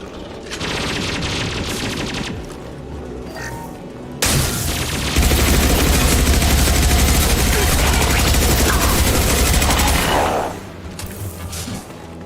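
Sustained rapid automatic gunfire rattles through a firefight in the video game Mass Effect 2 Legendary Edition, loud and dense with short pauses and bursts of heavier booms.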